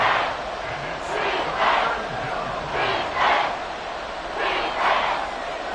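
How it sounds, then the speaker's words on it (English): A stadium crowd at Arrowhead roars in an American football video game, a sustained loud cheer rising and falling in repeated surges throughout. "The Arrowhead crowd in full roar."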